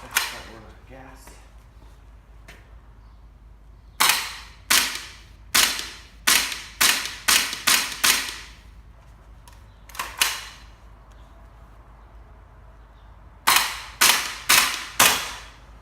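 Aimtop SVD airsoft sniper rifle, HPA tapped, firing at a target 45 feet away: sharp snapping shots, one or two early then steady single shots in clusters, with short gaps between groups and a brief murmur of talk at the start.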